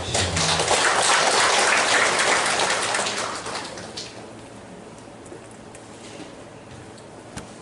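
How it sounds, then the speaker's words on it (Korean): An audience at a Changnyeong Jo clan annual general meeting gives a round of applause to welcome the new steering committee chairman. The clapping is dense and loud for about three seconds, then thins and fades out to quiet room tone. "큰 박수로 환영해 주시기 바랍니다."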